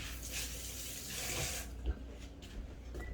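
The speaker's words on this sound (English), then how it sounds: "I have to rinse that one off." Water runs steadily from a kitchen tap while a jar is rinsed, a soft continuous splash that cuts off partway, leaving faint clinks and handling noises.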